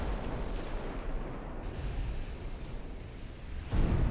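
A shell hit explodes on a German battleship in the naval battle game Ultimate Admiral Dreadnoughts, a dense roar of distant gunfire and rumbling blasts ending in a sudden louder boom.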